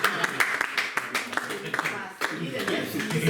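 Church congregation clapping for the senior pastor: scattered, uneven hand claps from a crowd, moderate in volume, mixed with a voice speaking over them.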